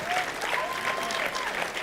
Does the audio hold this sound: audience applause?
yes